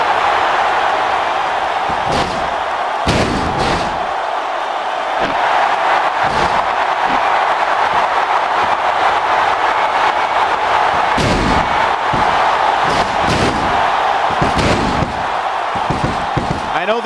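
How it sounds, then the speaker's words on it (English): A powerbomb slam in the PS2 wrestling game WWE Smackdown vs RAW, a women's bra-and-panties match between Sable and Trish Stratus, lands as loud heavy thuds over constant crowd noise, with commentary talk throughout. "a huge power bomb from Sable"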